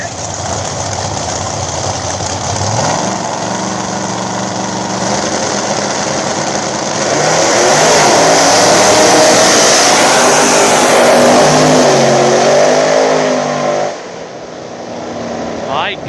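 Small-tire drag race cars launching at a dig event, Jake Boswell's Nova against Mike Gunner, with a loud rising engine roar that builds and revs hard before cutting off, heard under a continuous announcer's voice.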